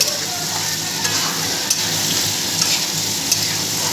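Vegetables frying in a pan, a loud, close, continuous sizzle with stirring scrapes and a few sharp clicks of a utensil against the pan, no one speaking.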